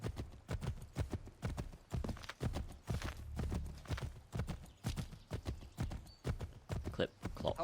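Horse hooves in the Assassin's Creed III video game clip-clop in a steady rapid galloping rhythm, loud and close, with a short whinny-like stretch midway.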